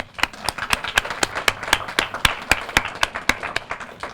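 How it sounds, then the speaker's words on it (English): Sparse, evenly spaced hand claps at a graduation ceremony, a handful of sharp individual claps at a steady rhythm rather than a full ovation, moderately close and fairly quiet. "So let's give yourself another applause"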